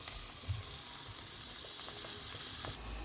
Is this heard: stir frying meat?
yes